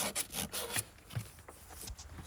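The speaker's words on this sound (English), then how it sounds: "I'm sanding these surfaces" Abrasive sanding strokes work over the mounting surfaces of a lawn mower blade, a few quick rasping rubs close by, then quieter scattered scrapes.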